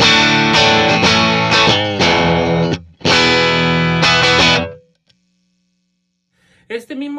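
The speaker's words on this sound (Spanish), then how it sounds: "ya tengo un poco más de distorsión que está producido por el amplificador." Electric guitar played through a VOX AC30 amplifier with amp-driven distortion: loud sustained distorted chords ringing out over two phrases, then a pause before a brief sharp strum returns.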